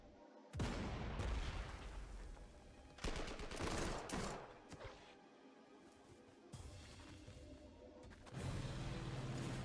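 Artillery and gunfire in the WWII strategy game Panzer Corps 2 come as loud booming bursts and crackling volleys, broken by short quieter gaps, with no voices.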